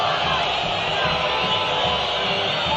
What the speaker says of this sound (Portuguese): Vaias da torcida do Vasco da Gama.